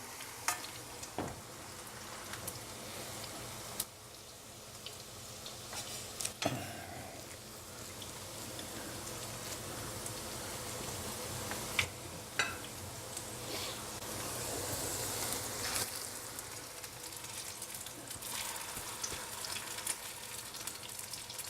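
Potato latkes fry in a hot pan with a steady, close sizzle and crackle, broken by occasional clicks and scrapes of a utensil as more batter goes in, with no talking over it.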